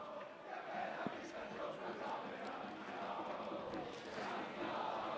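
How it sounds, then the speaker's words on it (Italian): Football supporters of both teams chant and sing in the stands at a Prato versus Sant'Angelo match, a steady, distant crowd roar filling the whole stretch with a faint commentator voice underneath. "E intanto cantano le due tifoserie"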